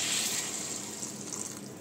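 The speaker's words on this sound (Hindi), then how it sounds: "थोड़ा सा गर्म पानी करके रखी थी वो मैं डाल देती हूँ।" Warm water pours from a vessel into a simmering soybean, egg and potato curry, a close, steady gushing splash that eases slightly as the pour ends.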